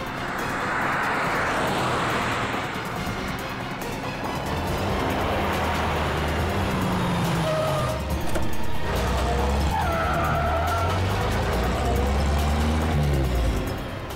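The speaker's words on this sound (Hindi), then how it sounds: "गाड़ी गाड़ी गाड़ी जल्दी।" A car speeding away with skidding tyres during a tense chase scene, a loud sustained engine roar and tyre squeal rising and shifting over several seconds, with no speech.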